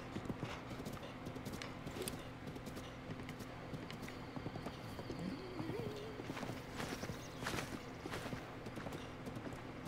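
Horse hooves clip-clop steadily in The Legend of Zelda: Breath of the Wild, a brisk close rhythm of light knocks over soft game ambience, with a brief whinny-like tone in the middle.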